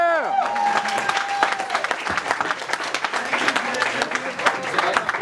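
Stand-up comedy audience bursting into loud, sustained applause with scattered cheers as a comedian is introduced on stage, a dense wash of clapping that holds steady throughout.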